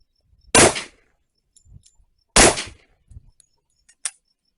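Two loud, sharp gunshots from a Rock Island Armory Tac FS HC 10mm pistol fired at a shooting range, spaced well apart, each followed by faint metallic clatter and small handling clicks.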